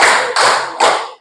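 Group of children clapping in unison during an icebreaker clap game in a classroom, three crisp loud claps in an even rhythm, close and with no voices.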